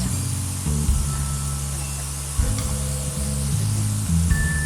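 A steady airbrush hiss sprays alcohol continuously over a low, droning compressor hum, close by, with slight shifts in the motor's pitch.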